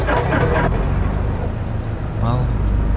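A Cessna engine in the X-Plane 11 flight simulator catches and settles into a low, steady droning idle that runs throughout, with voices talking over it near the start and again toward the end.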